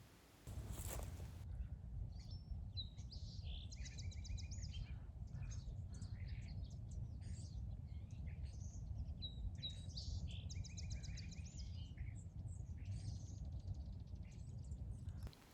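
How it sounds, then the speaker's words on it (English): Bright bird chirps and trilling song repeat in short bursts over a steady low rumble of moving water, fairly faint and a little distant. "I love standing down by the water to hear the birdsong."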